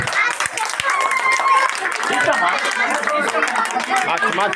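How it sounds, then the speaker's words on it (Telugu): Applause at a rangoli competition prize ceremony, with a crowd clapping steadily and densely throughout, mixed with chatter and voices. "గట్టిగా క్లాప్స్"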